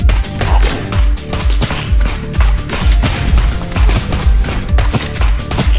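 Rapid bursts of video game gunfire from a crappy gun crack out loud and close, in repeated volleys of shots with booming low thuds, continuous across the whole stretch.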